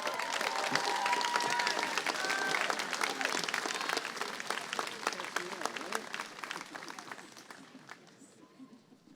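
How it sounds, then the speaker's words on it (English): A graduation audience at a high school ceremony applauds in a large hall, dense sustained clapping with some cheering that holds steady and then gradually fades away near the end. "one big round of applause for our senior speakers"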